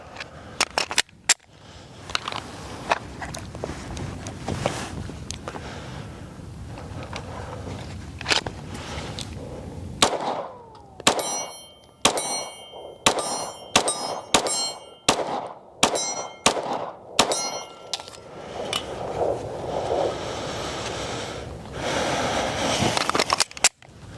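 Pistol rounds from a Springfield Armory Echelon Comp striking a steel target: after a stretch of duller pops, a rapid string of sharp metallic clangs and pings rings out close and loud, uneven in rhythm, with no talk.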